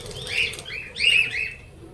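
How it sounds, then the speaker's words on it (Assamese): Budgerigars in an aviary at Assam State Zoo, Guwahati, chirp in two quick warbling bursts, close and moderately loud over soft background noise. "বাজৰিগৰ"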